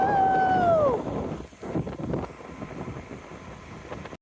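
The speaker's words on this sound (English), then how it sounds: "it's windy" Wind buffets the microphone while cycling on the Olympic Peninsula in Washington, a rough gusty roar that rises and falls, with a brief whistling tone at the start.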